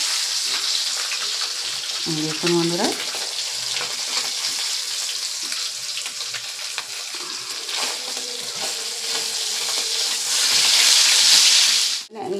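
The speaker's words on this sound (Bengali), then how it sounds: "এই পাশটা ভাজা হয়ে গেছে, তার জন্য উল্টে দিচ্ছি। এই পাশটাও ভালো করে ভেজে নেব।" Pieces of katla fish fry in hot oil in a pan, giving a loud, continuous sizzle as they are turned. A person speaks briefly near the start.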